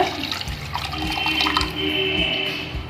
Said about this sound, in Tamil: எல்லாமே வதங்கின உடனே நம்ம புளி தண்ணியை சேர்த்துக்கலாம்